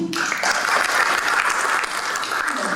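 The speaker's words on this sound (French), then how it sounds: "Nous pouvons applaudir" An award ceremony audience claps for a prize winner in a broad, sustained round of applause that rises quickly and holds steady, with a brief voice at the start.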